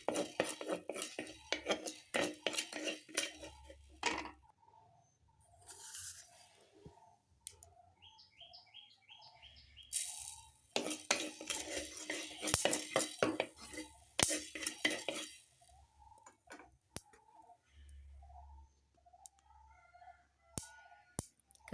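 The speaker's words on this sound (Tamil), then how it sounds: "இனி இது கூட நல்ல மிளகு, கடுகு போட்டு வறுத்து எடுக்கணும்." Black pepper and mustard seeds dry-roasting in a pan for a Tamil fish kulambu, with bursts of dry rattling and scraping between quiet gaps where soft popping and chirping sounds come through.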